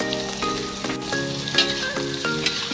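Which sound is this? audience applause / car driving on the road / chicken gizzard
chicken gizzard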